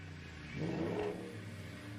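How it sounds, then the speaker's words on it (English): A truck engine revs up briefly, its pitch climbing and falling, over a low steady rumble; heard from a distance. "got his truck outside, revving the engine"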